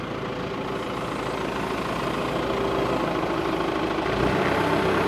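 A vehicle engine idles and then pulls away beside a 4x4 motorhome with a Gladiator living cabin, a steady low rumble that swells slightly toward the end as it leaves.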